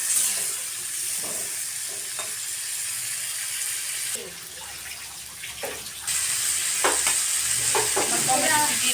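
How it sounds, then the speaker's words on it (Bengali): Curry being sautéed and stirred in a pan, with a steady close sizzle of frying and intermittent scraping and clinking of the stirring spoon, louder toward the end. "তরকারিটা এখন কষিয়ে নিই।"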